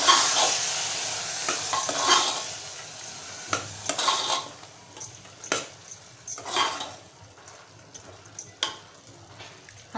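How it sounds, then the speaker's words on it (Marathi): Sprouted chickpea masala with a ground onion-coconut paste is stirred in a pan, giving repeated scraping and clinking strokes over a steady sizzle across the whole stretch, with no talking. "छान मिक्स करून घेऊया"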